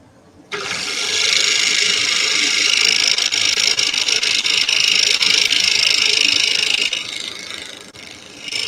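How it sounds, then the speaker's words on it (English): Compressed air hiss from an air hose in a workshop, starting abruptly and blowing steadily for about six seconds, loud and close, then tapering off. "Air hose."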